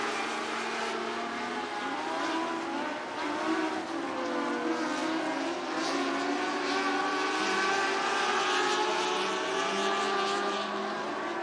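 Sprint car engines racing around a dirt speedway in an Interstate Sprint Car Series event: a continuous droning roar of several cars at a distance, with pitch rising and falling as they circle the track.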